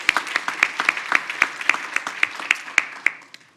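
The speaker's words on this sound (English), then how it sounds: "We give her a round of applause as well" A restorative justice conference audience gives a brief round of applause for a speaker. The claps are sparse and distinct, fairly loud, and thin out and fade within a few seconds.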